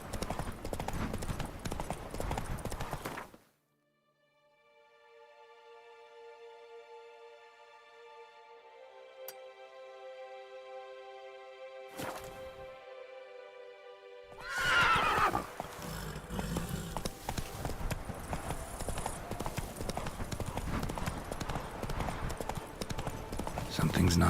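Roach, a video game horse, trots with rhythmic clip-clop hoof beats and a neigh, loud at the start and again after a long quiet musical passage in the middle, with some speech mixed in.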